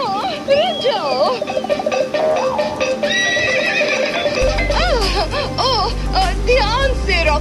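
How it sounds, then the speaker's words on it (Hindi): Cartoon horse neighs and whinnies, loud and close, in several wavering calls, then rhythmic hoof clip-clop joined by a low rumble, all over busy animated music and effects. "वाह, चलो हॉर्स राइडिंग करते हैं।"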